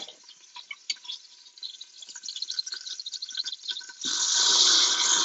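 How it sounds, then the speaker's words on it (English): A cup of beef broth is poured into a hot Instant Pot after browning keto pork chops, deglazing the pot. Scattered small clicks and drips give way to a loud, steady sizzling rush near the end, with no talking. "beef broth, 1 cup of beef broth, and you're going to deglaze the pot"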